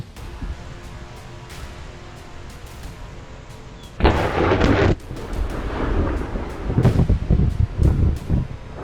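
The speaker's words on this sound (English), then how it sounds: "A bolt of lightning slashed across the sky, lighting up downtown Cleveland in the middle of a violent thunderstorm." Thunder rumbles during a violent thunderstorm over downtown Cleveland: a low continuous roll, then a loud close crack and heavy booming rumble that swells again with wind buffeting the microphone.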